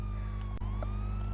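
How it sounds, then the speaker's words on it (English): A police car siren in the video game GTA wails in a steady rising and falling tone, loud and close, over a low constant engine hum, broken by a brief dropout partway through. "they've just turned their sirens back on again"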